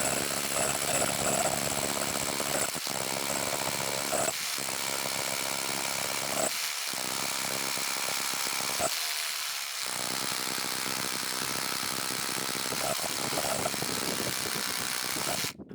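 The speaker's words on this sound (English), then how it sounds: "The trick to optimizing rotary hammer drill performance is to apply moderate pressure to the bit." A Parkside Performance PKHAP 20 Li B2 cordless rotary hammer drill bores into concrete, a loud continuous rattling roar that stops briefly a few times before resuming.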